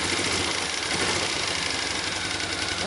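A $600 Magnum's engine runs close by, a continuous buzzing mechanical drone with steady rapid pulsing, holding fairly even throughout.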